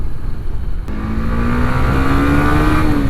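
Honda CB150X motorcycle accelerating on a test ride, engine pitch climbing steadily through the gears with a loud, continuous rising whine over road and wind noise.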